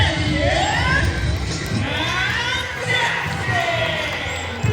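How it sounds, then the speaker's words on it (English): A ball bounces during a sea lion show at Manila Ocean Park as a crowd cheers and children shout loudly all around, with an announcer speaking over the noise. "It's a ball bounce!"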